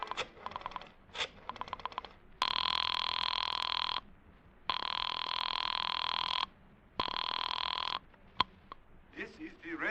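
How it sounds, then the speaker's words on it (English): Telephone rings in an old-time radio detective drama after a number is dialed, three long electric bell rings separated by pauses, preceded by dialing clicks and followed by a click as the line is picked up. "I dug through the telephone book and I found Dr. Matson B. Forsyth's number and I dialed it."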